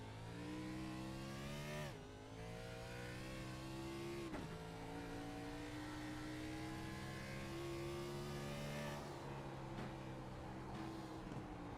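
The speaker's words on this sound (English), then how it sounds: "he's going to be fully out of the throttle. And you hear him, nice downshifts," A race car in a racing video game at Sonoma comes off the throttle and drops through gears, the engine tone stepping down with each downshift, then holding a steady drone, heard alone without talk.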